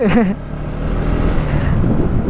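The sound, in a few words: road traffic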